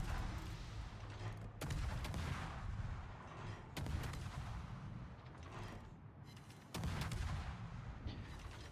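Naval guns firing in World of Warships, heavy booming salvos arriving every couple of seconds, each a sharp blast that rolls off into a low rumble over steady engine and sea noise.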